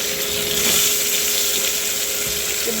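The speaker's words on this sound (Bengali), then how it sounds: "এখন আমি এগুলো তেলে ভেজে নেব" Eggplant pieces fry in hot oil, giving a continuous loud, hissing sizzle that stays steady and close throughout, with no speech over it.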